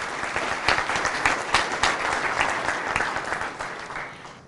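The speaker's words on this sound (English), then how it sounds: "Let's give her a round of applause." Loud, close applause at a school board of education meeting honouring a student debater, many hands clapping in a thick continuous wash with a few sharper claps standing out, sustained throughout.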